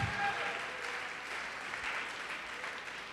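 Applause from a church congregation during a sermon, a steady wash of many hands clapping at moderate loudness throughout, with some faint voices mixed in.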